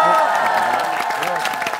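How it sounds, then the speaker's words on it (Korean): Studio audience on a Korean variety talk show breaks into steady applause with scattered cheers to welcome a family-medicine doctor guest, dense clapping sustained throughout, loud and close. "박상주 선생님을 큰 박수로 환영해 주시기 바라겠습니다"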